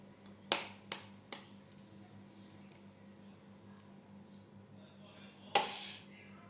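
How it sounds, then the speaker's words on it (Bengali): An egg cracked into chicken pakora batter, heard as three sharp close taps of shell against a bowl edge, then a pause and a final crack with a brief splat, over a quiet kitchen hum. "ডিমটা ফাটিয়ে দিই।"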